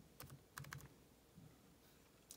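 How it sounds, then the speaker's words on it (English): Keys on a computer keyboard are typed in short, soft bursts of clicks, a few quick groups with pauses between, ending on one sharper keystroke, quiet and close. "Click on that, type in access."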